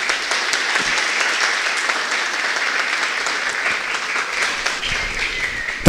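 Sustained, steady applause from an audience at a philosophy congress, dense even clapping filling the whole stretch at a fairly loud, uniform level without a break.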